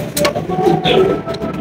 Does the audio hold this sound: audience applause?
no